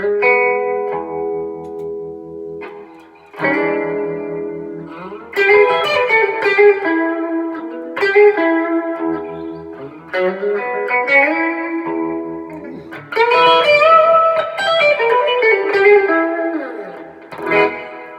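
Electric guitar played through a stereo effects rig, sustained chords and melodic lines drenched in chorus and reverb, loud and close, phrases separated by brief pauses.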